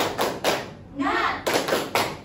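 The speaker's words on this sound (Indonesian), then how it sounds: "Ice breakingnya cukup sederhana dengan bertepuk semangat ya." A classroom group claps a rhythmic spirit chant together, sharp synchronized bursts of claps in a quick pattern with a short pause in the middle, close and loud.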